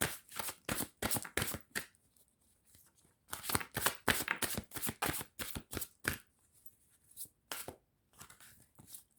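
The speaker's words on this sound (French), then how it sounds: "je mélange bien mes cartes" A deck of oracle cards being shuffled by hand, with quick riffling bursts in several rounds separated by short pauses, close and crisp, with no voices.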